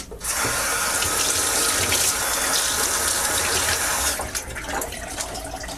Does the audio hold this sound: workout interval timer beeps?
no